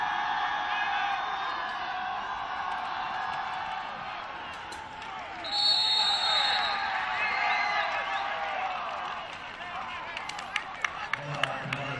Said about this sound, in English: Listen to all that cheering.